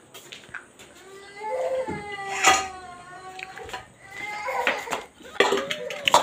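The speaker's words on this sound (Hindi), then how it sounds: "मेरा बेबी भी रो रहा है" A baby cries in wavering, drawn-out wails, with dishes clinking in the background.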